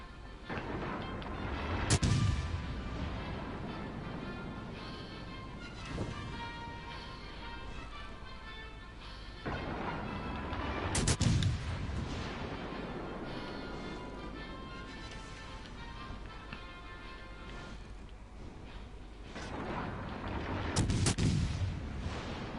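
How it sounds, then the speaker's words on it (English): Naval gunfire in a warship game, including a volley of HE shells from the Fuso battleship, heavy booming salvos at roughly ten-second intervals over a steady low rumble of engine and sea. "thankfully that's a volley of HE from the Fuso"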